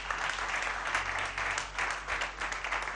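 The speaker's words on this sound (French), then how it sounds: "Applaudissez pour la seule femme du jury." Applause from a gala evening audience for the only woman on the jury, a moderately distant wash of many hands clapping steadily and swelling in waves.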